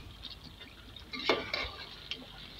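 Boneless beef is stirred and fried in a pot at home, with faint scraping and a few sharp clinks of a spoon against the metal over quiet background noise.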